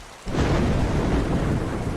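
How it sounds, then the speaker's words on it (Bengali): Thunder suddenly breaks into a loud, sustained rumbling roar after a brief quiet moment, with rain pattering underneath, during a nor'wester storm at night. "আর ঠিক সেই মুহূর্তে বাইরে বাজ পড়ল"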